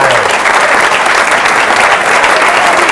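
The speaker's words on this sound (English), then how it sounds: "Give him a nice round of applause." A comedy club audience claps for comedian Brian Kiley, dense and loud applause filling the room evenly from start to end, with a faint crowd murmur underneath.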